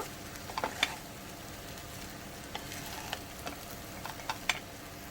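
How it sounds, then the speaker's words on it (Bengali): Cooked rice being stirred and mixed in a frying pan for fried rice: sparse scraping and clinking strokes over a faint steady sizzle, with a few sharper knocks of the utensil against the pan. "এটাকে ভালো করে পুরো মিক্স করে নেব"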